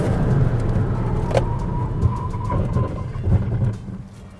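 Honda Amaze, the 2024 model with an i-VTEC engine, braking hard from around 100 km/h: steady road and engine rumble with a few brief tyre and brake squeals, a low drone easing off at the end.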